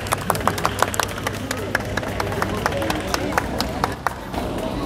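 A crowd at a Vietnam dog show claps in scattered, uneven bursts over a steady background hum and murmur of people talking, the applause close-ish and moderately loud.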